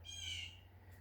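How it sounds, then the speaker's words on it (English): A single harsh squawk from a blue jay calls out after rain, short and fairly clear against a quiet outdoor background with a low steady hum. "I think that's a blue jay"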